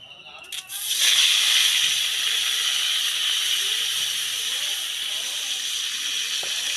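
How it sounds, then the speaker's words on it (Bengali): Whole tilapia rubbed with salt and turmeric hits hot mustard oil in a kadai, bursting into a loud, steady hiss and sizzle that holds strong without letting up. "এই দিচ্ছি কড়াইতে মাছ, দেখুন।"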